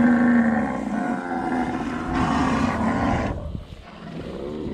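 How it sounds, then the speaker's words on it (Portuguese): Cows in a pasture lowing loudly and close by, one long drawn-out moo followed by another deep bellow, with a brief quieter gap near the end. "As vacas não querem deixar eu falar."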